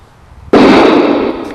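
A single loud gunshot going off close by, a sudden sharp blast that hangs as a broad, noisy roar for about a second after a quiet lead-in.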